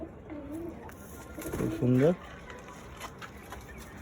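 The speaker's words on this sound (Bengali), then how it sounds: "এগুলো সব ধাড়ি পায়রা" Adult breeding pigeons in a Madras pigeon loft give a few low, rolling coos, one loud close burst standing out, while a person speaks briefly nearby.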